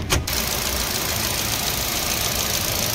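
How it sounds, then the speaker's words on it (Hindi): A 2017 Hyundai Accent runs at idle just after starting, a steady mid-pitched engine hum that follows a brief burst at the very start and holds even and close. "गाड़ी स्टार्ट हो चुकी है"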